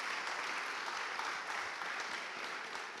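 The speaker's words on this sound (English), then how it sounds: "round of applause" A young adults' church gathering breaks into a sustained round of applause from the audience, steady and dense clapping throughout with a faint voice or two underneath.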